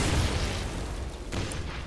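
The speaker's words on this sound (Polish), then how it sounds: "drzwi wybuchły" A loud, rumbling explosion of a door in the video game Wolfenstein (2009), with a dense, crackling roar that fills the whole moment; no voices.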